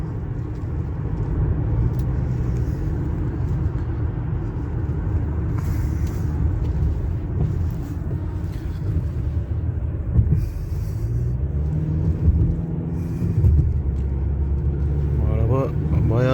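A 2016 Audi A6 quattro with a 2.0 diesel engine accelerates in third gear at about 2000 rpm. It gives a steady low rumble heard from inside the car, with a voice talking over it.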